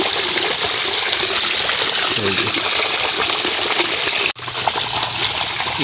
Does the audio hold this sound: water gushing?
yes